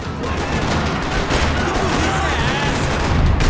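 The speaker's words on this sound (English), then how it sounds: "Another parking lot rattling with gunfire." Dense, rapid bursts of gunfire in the video game Max Payne 3 rattle continuously in a parking lot, loud and close, with overlapping shots throughout.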